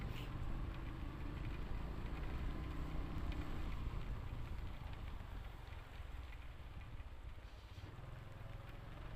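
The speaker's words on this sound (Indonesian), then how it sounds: "Baki gede hujannya" Heavy rain while riding a motorbike, a dense, loud, unbroken hiss of downpour mixed with wind and road rumble, steady throughout with no voices.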